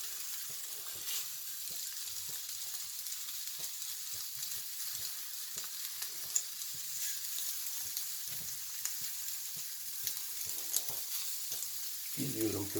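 İnegöl meatballs sizzle steadily in a cast iron pan, a continuous bright crackle with faint scattered pops running throughout at close range, with no talking.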